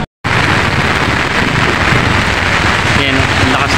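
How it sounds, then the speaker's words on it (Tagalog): Heavy rain pours down at a livestock auction market in Lucena, a loud, dense roar that starts abruptly after a brief silence and keeps going without a break. "Ang lakas ng ulan."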